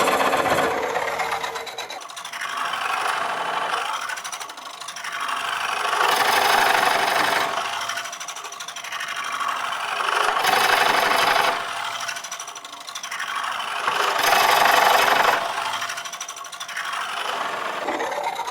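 A Woodcut Bowlsaver cores a wood bowl on a lathe, a steady rasping, grinding cut that swells and fades in long repeated passes, with a loose shaving caught over the blade end adding a scraping rub; no voices.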